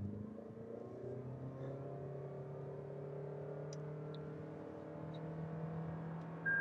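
Toyota Innova Hycross hybrid petrol car with a CVT pulling hard from a standstill toward 100 with traction control off, its engine holding a steady, droning whine heard from inside the cabin with no talk.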